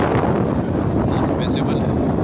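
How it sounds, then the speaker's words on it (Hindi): Strong wind roars and buffets the microphone in a loud, continuous rush on Mount Uhud near Medina, Saudi Arabia, with faint other sounds barely noticeable beneath it. "बहुत तेज़ हवा चल रही है।"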